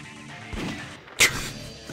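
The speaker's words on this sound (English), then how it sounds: "The gunshot gets me every time," A single sharp gunshot from the Shadow the Hedgehog video game cracks out in the middle, loud against a quieter music-like background.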